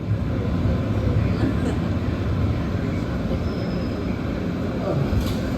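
MBTA Green Line Extension light rail train running along its track near East Somerville, a steady broadband rumble and rattle heard from inside the car, continuous and fairly loud throughout.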